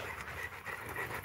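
A dog pants steadily and close by in quick, rhythmic breaths that continue throughout, with no talk over them.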